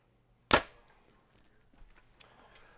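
A single sharp report from a 2023 Bowtech CP30 compound bow being shot, loud and close, with a quick decay followed by faint handling noises and no talk.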